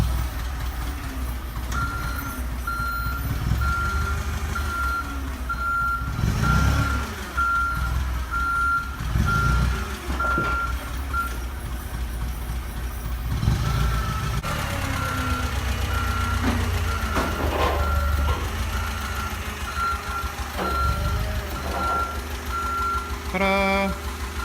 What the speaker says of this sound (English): we're gonna use a forklift because it's way easier